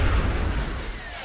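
A grenade explodes in XCOM: The Long War, a heavy low boom with a rumbling blast that fills the short moment and slowly fades.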